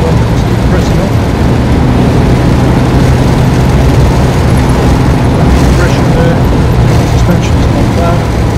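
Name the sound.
1969 Jaguar E-Type 2+2 automatic car driving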